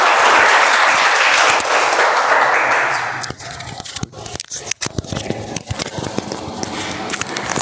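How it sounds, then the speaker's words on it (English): An audience at a Toastmasters meeting breaks into loud, dense applause that lasts about three seconds, then thins into scattered claps and shuffling noises. "Let us welcome Toastmaster Amal with a round of applause for the table topic"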